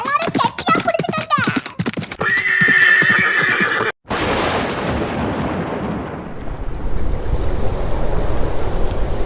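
A cartoon horse whinnies loudly over music and other voices, then a crash gives way to a steady roaring wash like heavy rain or surf, and the horse sets off amid the noise.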